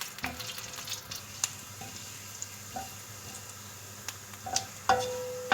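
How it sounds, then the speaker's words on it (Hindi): Cumin seeds frying in about four tablespoons of oil in a kadhai wok, a faint steady sizzle with scattered small pops and utensil clicks, heard close and alone. "ज़ीरे को हल्का सा फ्राई करूँगी।"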